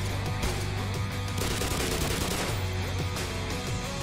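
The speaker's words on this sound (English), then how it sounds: "Who's shooting?" Gunfire in the shooter Black Mesa: loud, dense bursts of automatic weapon fire mixed with single shots, continuous and close, with no speech.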